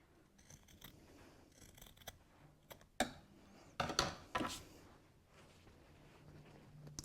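Scissors snip through fabric while trimming a cosmetic bag at a sewing table, a few sharp, close cuts spaced irregularly against a quiet background.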